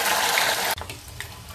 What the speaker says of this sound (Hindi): अब हम इसमें चाप फ्राई करने के लिए डाल देंगे।